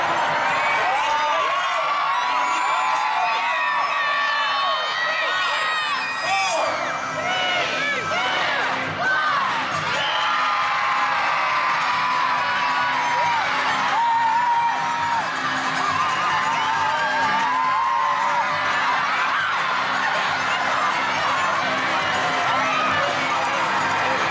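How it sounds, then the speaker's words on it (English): A loud crowd cheers and whoops steadily at a Superdogs dog race in Toronto, Ontario, with shouts and cheers layered densely over sustained roaring applause throughout. "The louder you cheer,"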